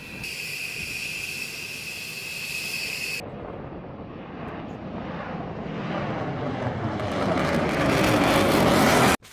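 An American B-1B bomber passes overhead in the Middle East, a steady jet roar that swells louder and brighter as it approaches, then cuts off abruptly.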